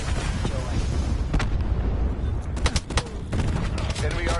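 A Call of Duty cluster grenade sets off loud, dense bursts of explosions. Several sharp blasts stack on one another over a rumbling battlefield, and game voice callouts mix in among them.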